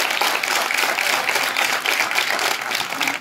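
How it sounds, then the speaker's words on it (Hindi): Applause from an audience at a girl education and gender issues programme held at a school, a dense, even clapping that fills the whole stretch without pause. "तो इनके लिए जोरदार तालियां बजाता हूँ।"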